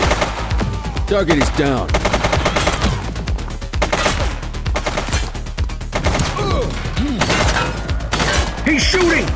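Rapid gunfire in The Precinct police video game, loud bursts of automatic shots crackling almost continuously with heavy impacts, while a voice speaks briefly over the shooting.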